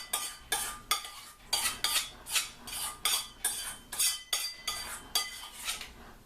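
A spoon stirs flax muffin batter in a bowl with a steady run of about a dozen scraping, clinking strokes, close and fairly quiet, each one a short swish against the bowl's side with no one talking.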